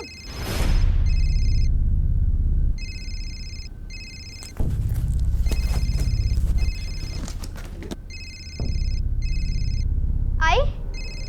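A phone rings in repeated double bursts, pausing between them, over low background rumble and shuffling, with a brief whoosh near the end.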